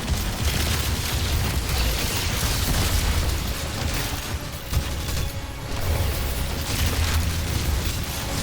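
Bouncing grenades detonating in Destiny 2 combat, a dense continuous roar of booms and bursts at high level, with no voices.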